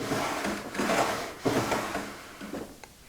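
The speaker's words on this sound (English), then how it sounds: "I've dry fitted the 2 guide rails to the rear rail and the forward drawer fascia rail, to give you an idea just how this operates" A wooden drawer glides along dry-fitted wooden guide rails on a hallway table, giving a soft rubbing slide with a few light knocks, close and fairly quiet.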